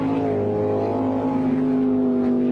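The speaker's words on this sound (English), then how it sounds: "You can hear the engine RPM pick up." A jet sprint boat's powerful engine drones loudly during a 2009 World Jetsprints race, with a steady, rising tonal whine as the revs climb while the jet unit catches up with the water flow, nearby and continuous.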